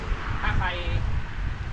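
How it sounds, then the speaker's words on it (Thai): Strong wind blowing outdoors where a 2.4-metre fishing umbrella is being set up, a steady loud rushing roar buffeting the microphone throughout. "ตอนนี้ลมแรงเหมือนกัน ลมค่อนข้างแรงเลยนะ"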